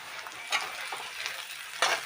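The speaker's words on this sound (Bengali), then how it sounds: "পেঁয়াজগুলো হালকা লাল করে ভাজা করব।" Chopped onions with a pinch of salt sizzle steadily in hot oil, close and moderately soft, with a couple of brief stirring scrapes breaking through the frying hiss.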